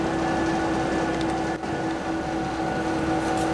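Steady heater humming continuously through a cold workshop where a Quadra-Trac transfer case is being dismantled, a constant droning tone with a broad rushing bed, loud and unbroken apart from a brief dip midway.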